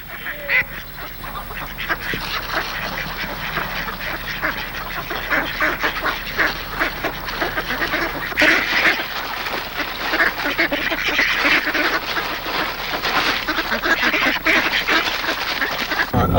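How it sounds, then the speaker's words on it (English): Ducks, likely fed stale bread, quack and honk steadily over dense outdoor noise, a busy chorus of fowl close by for the whole stretch. "which is good news for the ducks because they love the stale bread."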